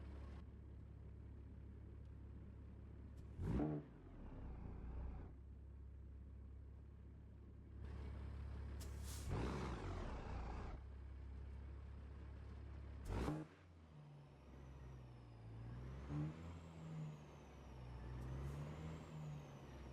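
Truck engine and exhaust at about 1600 RPM in a truck simulator game, a low steady drone broken by a few sharp bursts and hisses, with the engine note rising and falling toward the end.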